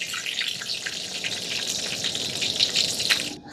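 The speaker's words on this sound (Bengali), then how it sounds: "ধনেপাতাগুলো একদম মুচমুচে করে ভেজে নিয়েছি" Fresh coriander leaves, washed and drained, sizzle crisply in hot oil, a steady close hiss and crackle that fills the whole stretch and drops away sharply at the very end.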